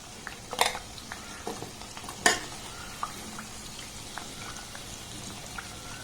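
Rotis frying in oil in a pan give off a faint, low crackle near the mic, punctuated by a couple of sharper pops and light scrapes.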